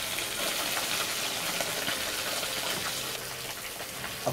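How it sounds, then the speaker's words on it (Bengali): Fish deep-frying in hot oil over a high flame gives a continuous crackling sizzle, dense and steady with small pops, heard on its own without talk. "মোটামুটি হাই ফ্লেমের মধ্যেই মাছগুলো ভাজা হবে"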